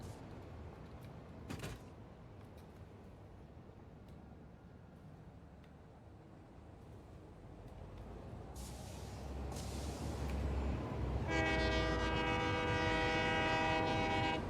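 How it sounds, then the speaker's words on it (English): A train in the video game Satisfactory rumbles steadily and grows louder, then a loud, sustained horn blares over the rolling noise for the last few seconds. "It's going to get a train ride back."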